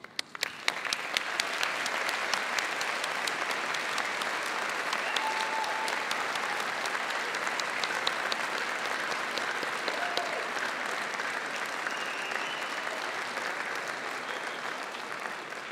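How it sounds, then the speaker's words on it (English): Sustained applause from a graduation ceremony audience at Birmingham City University, thick and even throughout, with a few scattered claps starting it before the room fills in and holds a steady level. "join me in giving them a round of applause"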